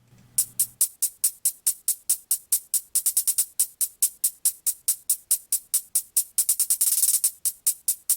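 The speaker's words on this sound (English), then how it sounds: "with these eighth notes and these rolls combined, the hat sounds something like this." Trap hi-hat pattern programmed in Cubasis, steady eighth-note ticks broken by quick rolls, bright and crisp, repeating alone for about eight seconds after a brief low hum at the start.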